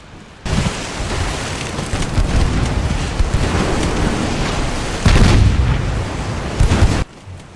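Dense rumbling booms of heavy 6-inch naval gunfire in the game Ultimate Admiral Dreadnoughts roll continuously, with louder bursts near the end before stopping abruptly.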